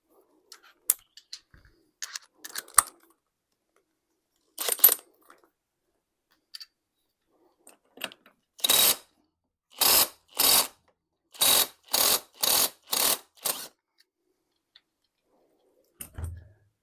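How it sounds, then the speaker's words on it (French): Pin spanner working the clutch nut on a Honda XLR125R motorcycle, scattered metallic clicks and clanks, then a regular series of short ratcheting bursts, close and clear in a quiet workshop. "Enfin, on reprend notre clé à créneau"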